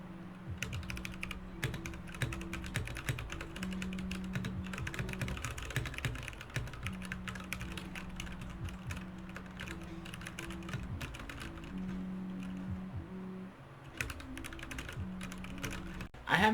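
Typing on a KEMOVE Shadow 60% RGB mechanical keyboard, a steady run of close, quiet key clicks and clacks with a faint background hum, no talking.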